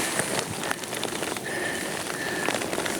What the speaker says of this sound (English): It's raining, so I'll have to stop soon